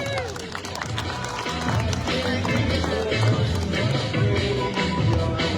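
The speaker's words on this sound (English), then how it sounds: "Give him a round of applause." An audience at a butcher competition round at a meat industry event claps and cheers for a judge, with busy overlapping applause and crowd noise under a loud announcer's voice.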